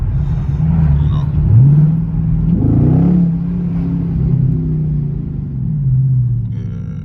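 A Dodge Scat Pack with a straight-pipe exhaust rumbles and revs with a deep, throaty note, rising and falling steadily, fairly loud and close, with no talk over it.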